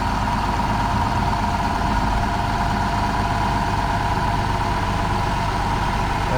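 A Toyota car engine idling up with the air conditioning set to full, giving a loud, steady hum with a constant mid-pitched drone and no talking over it.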